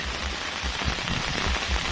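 Steady rain falls on a surface in an early-morning downpour with wind, a dense, even hiss with scattered nearer drops, loud and continuous, and nobody speaking.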